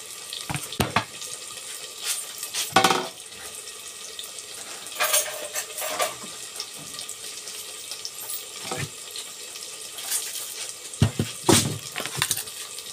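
Water is poured and stirred into a spice paste with chilli powder for a prawn dish, a soft close trickle and wet mixing broken by a few sharp spoon clinks, with no talking.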